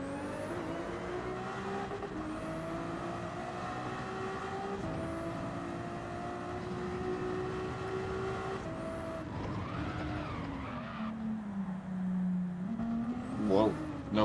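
Ferrari race car in Gran Turismo 7 with a steady, droning engine note that holds and shifts pitch, then revs sharply near the end, running continuously under a talking voice.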